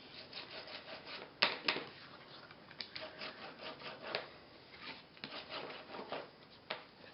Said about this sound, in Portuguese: Pega uma borracha e dá uma apagada